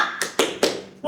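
A teacher leads the 'tepuk semangat pagi' clapping chant in a classroom: three sharp, evenly spaced claps close by, with a fourth starting at the end and a voice faintly in the background.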